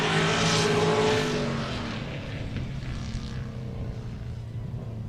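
A Chevy Corvette drift car at full throttle on a track during a drift challenge at LS Fest Texas, loud roaring engine passing close then fading into a sustained distant drone, with no talk.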